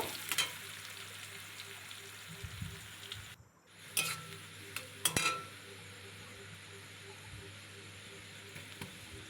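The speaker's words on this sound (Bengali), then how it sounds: "একটা কুচনো পেঁয়াজ তেলের ওপরে দিয়ে দিলাম এবার একটু বেশ লালচে করে ভেজে নেব" Chopped onion frying in oil for a large katla fish curry, a moderate steady sizzle with occasional utensil clinks and scrapes against the pan, quiet and close.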